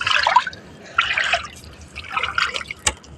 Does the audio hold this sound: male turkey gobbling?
no